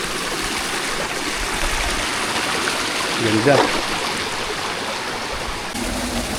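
A cool, clear stream flowing at a river in Mindoro, a steady broadband rush of water filling the whole clip, with a brief spoken word cutting through it.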